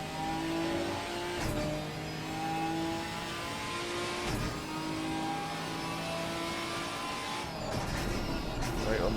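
GT4 race car at full throttle on a circuit, a loud sustained engine note holding steady through long pulls, with brief gear-change dips and a rising rev swell near the end.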